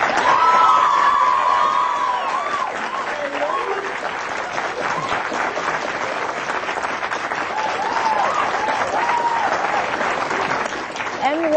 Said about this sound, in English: let's have a round of applause for both our teams.